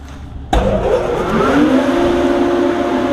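A farm truck engine at a wheat harvest starts abruptly after a brief quiet moment, then settles into a steady mid-pitched idle with a slight rising tone, close and loud.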